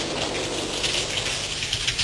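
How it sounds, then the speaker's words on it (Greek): Steady rain falling, a dense even hiss of drops on surfaces, continuous and moderately loud with no talking. "βροχή."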